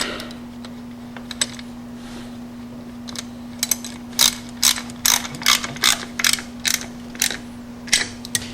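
A ratchet wrench clicks while tightening bolts, in short bursts of rapid pawl clicks that start sparse and grow into a steady rhythm of strokes, close and crisp over a constant low electrical hum.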